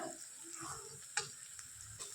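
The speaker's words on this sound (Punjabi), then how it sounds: "ਮਟਰਾਂ ਨੂੰ ਵੀ ਆਪਾਂ ਹੁਣ ਤੜਕੇ ਦੇ ਵਿੱਚ ਵਧੀਆ ਭੁੰਨ ਲਾਂਗੇ" Peas tossed into hot oil for a tempering, giving a soft close sizzle with light stirring ticks and one sharper click, fairly quiet and with no talking.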